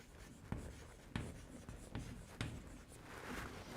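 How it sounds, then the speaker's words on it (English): Quiet writing strokes during a lecture on semiconductor conduction and valence bands, made up of soft scratchy marks broken by several sharper taps at irregular intervals, close and faint. "let me write it here"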